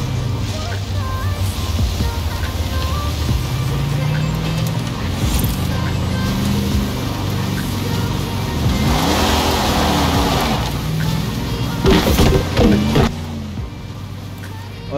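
In Forza Horizon 4, the engine of a Honda Ridgeline Baja race truck drones and revs up and down while the truck is driven off-road, and someone talks over it the whole time.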